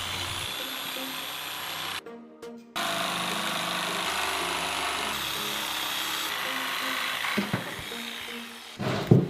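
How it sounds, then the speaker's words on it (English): A jigsaw cuts through a wooden paddle with a loud, steady buzzing rasp that stops briefly early on, then resumes and runs continuously close by. "of course, you can resume jigsawing"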